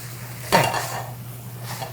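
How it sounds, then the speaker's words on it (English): Dishes and cutlery clink as food is plated into serving bowls in a kitchen for a gala dinner, one sharp close clatter followed by quieter ringing and faint handling against a low steady hum. "put everything on the plate just as it's supposed to be."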